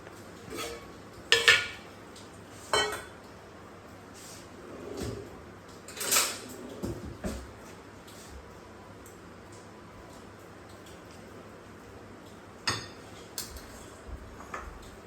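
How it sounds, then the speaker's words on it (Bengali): A spoon mixes a palm fritter batter with mashed banana in a bowl, giving sparse knocks and clinks of the utensil against the bowl with quiet pauses between them. "এবার আমি এগুলোকে সব কিছু মিশিয়ে নেব।"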